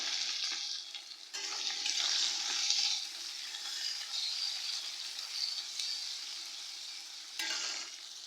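Chopped onions frying in hot oil with cumin, dry red chillies and whole garam masala for a potato chicken curry: a steady, close crackling sizzle that surges as the pan is stirred, with brief scraping bursts.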